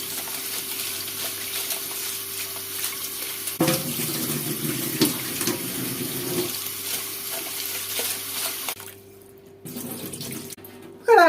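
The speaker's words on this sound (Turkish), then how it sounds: "Şimdi bol suda yıkayacağım pirinçleri." Rice is washed in a bowl under a steadily running kitchen tap, water gushing and splashing continuously with brief shifts in tone as grains are stirred, then the flow stops before a short final clatter.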